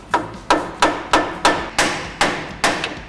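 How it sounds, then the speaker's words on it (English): A hammer lightly tapping the tapered tie rod joint on a Jeep Wrangler JK's suspension, eight sharp metallic knocks in an even rhythm, close and alone. "So what you want to do is just lightly tap."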